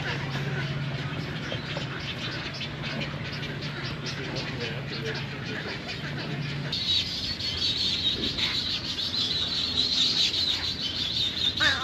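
Baby birds chirp at an alligator farm, a dense stream of high, thin calls filling the air, steady and fairly close, with louder bird noise building toward the end.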